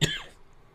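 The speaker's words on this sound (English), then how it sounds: "I say that as I start coughing" One short, sharp cough at the very start, close and fairly quiet, then fading into soft room noise.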